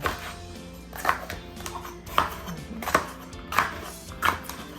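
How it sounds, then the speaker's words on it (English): Knife chopping ingredients for a catfish tomato stew on a board, with a series of moderately loud, evenly spaced cuts under a low steady background hum. "I'm going to cut this up and blend everything together."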